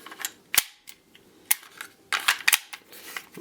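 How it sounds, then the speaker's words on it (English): Pistol magazine for a SIG P250 double-action-only handgun seated into the grip, a string of sharp plastic-and-metal clicks and snaps, close and fairly crisp, with no talking. "Mag seats nicely in the firearm."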